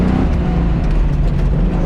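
Drag race Corvette engine at autocross warm-up, a steady loud low rumble idling and revving close by, continuous through the moment with no talk.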